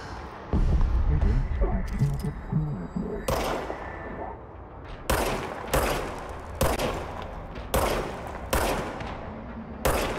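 Gunfire in the video game Control, several loud sharp shots at irregular intervals after a stretch of rumbling and talk, each crack followed by a short decaying echo.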